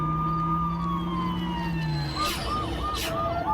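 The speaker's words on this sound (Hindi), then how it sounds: "तभी पुलिस की गाड़ी आई।" A police car's siren wails as the vehicle arrives on a deserted road, the rising and falling tone clear over steady traffic-like rumble, in a dramatized story scene.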